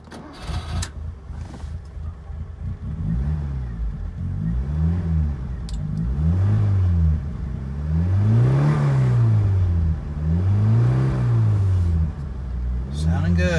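A 1978 Fiat 124 Spider with a new distributor cap, points, plugs and wires cranks, catches and runs, its engine rising and falling in repeated revs for over ten seconds, loud and close, with voices talking over it.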